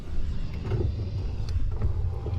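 Power window motor in a Pontiac Grand Prix GXP lowering the last working window, a steady low mechanical hum and whir running throughout at close range, with no talking.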